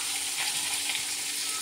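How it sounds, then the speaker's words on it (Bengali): Chopped onion hitting hot oil for a banana-flower and prawn curry, giving a steady, close, fairly loud sizzle of frying that holds evenly with no voices. "তো ওই তেলের মধ্যেই বন্ধুরা আমি পেঁয়াজ কুচিটা দিয়ে দিলাম।"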